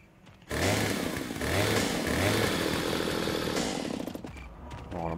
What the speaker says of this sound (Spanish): Motosierra no tanto.